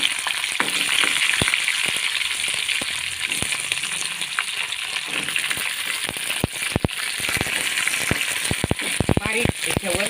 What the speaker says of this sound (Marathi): मग वांगे टाकून द्यायची तेलामध्ये